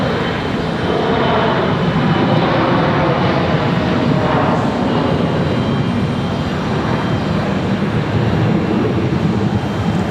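An Airbus A319 airliner coming in to land at Charlotte Douglas International Airport gives a steady, loud jet roar that holds for about ten seconds, with no talking.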